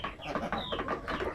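Sampi native chickens clucking close by in a busy cluster of short overlapping clucks, with other birds faintly behind.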